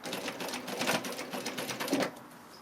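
A sewing machine stitches piping onto fabric in a quick, even mechanical whir of needle strokes, close and fairly quiet, running steadily with no talk.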